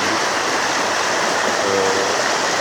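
Clear mountain water of the Madola river in Sri Lanka flowing over rocks, a steady, close, broadband rushing that stays constant with no voices.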